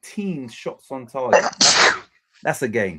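A single sharp sneeze bursts out between stretches of someone talking about football scores, loud and close.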